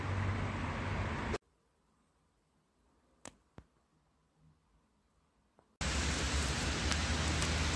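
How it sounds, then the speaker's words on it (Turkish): Steady broadband hiss of heavy rain, loud at the start and end with a quiet gap in the middle holding a few faint knocks. "Bugün de çok yağmurlu dostlar."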